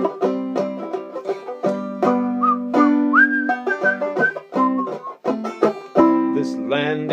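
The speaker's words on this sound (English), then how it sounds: "I stood there whistling." Someone whistles a clear, tuneful folk melody with sustained notes, short slides and brief breaths between phrases, loud and close.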